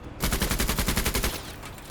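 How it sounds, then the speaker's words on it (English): Rapid burst of automatic gunfire in the video game MENACE, about a dozen sharp evenly spaced shots over one second, then a fading tail. "We are just going to fire twice at that."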